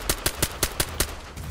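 A Cr-75 pistol in the video game DayZ fires six sharp, evenly spaced shots in quick succession, loud and alone with no talking.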